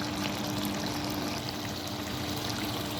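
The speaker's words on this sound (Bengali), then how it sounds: "আমি ঝোল দিয়ে দিছি, মাছটাও বসাই দিলাম" Broth pours steadily into a pan of pangas fish curry with potato, pointed gourd and sponge gourd, a continuous close liquid stream and splash lasting throughout without a break.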